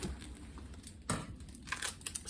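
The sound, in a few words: plastic wrap being handled and crinkled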